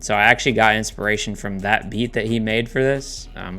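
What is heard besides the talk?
No everyday noise stands out behind the speech.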